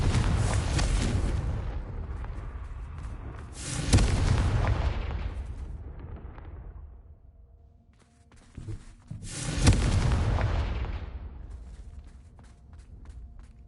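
Two heavy booming explosions from the Confringo blasting spell in the video game Hogwarts Mystery, each a loud burst with a long rumbling decay, separated by a quieter lull with faint thuds.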